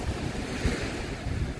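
Ocean surf rolls in at Bhavanapadu beach in Andhra, a rough and dangerous stretch of coast. The waves wash in as a continuous low rumble, heavily buffeted by wind noise on the microphone, with no talking.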